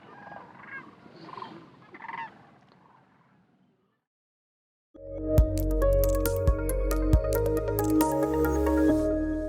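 A wild turkey gobbles in bursts against a loud, steady mechanical drone with sharp repeated clicks, after a brief quieter stretch of outdoor ambience and a pause.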